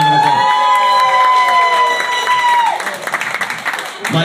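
Audience applause and cheering at a comedy show rise up behind a long sustained musical tone, then break into a ragged burst of clapping and crowd noise for a few seconds.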